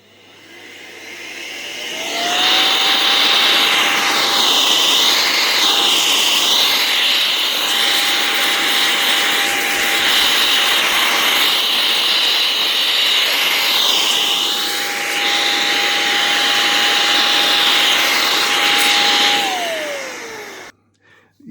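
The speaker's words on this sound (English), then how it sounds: "So first thing I'm going to do, air" An air duster blows dust off the primary mirror of a Newtonian telescope, a loud, continuous rushing hiss with a steady motor-like whine that ramps up, holds for most of the clip, then winds down, with no speech.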